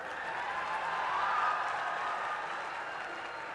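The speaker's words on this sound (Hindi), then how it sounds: "सभी का तालियों की गूंज के साथ स्वागत कीजिए" A large audience at the closing ceremony of the Kashi Tamil Sangamam applauds to welcome the distinguished guests seated on stage, dense steady clapping that swells slightly and holds throughout.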